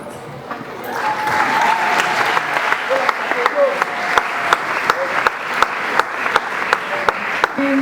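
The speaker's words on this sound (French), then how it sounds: "Sous vos applaudissements." Audience applause at a ceremony honouring a Red Cross representative, steady and loud for about eight seconds with sharp individual claps standing out on top of a dense crowd wash, while a voice speaks faintly underneath.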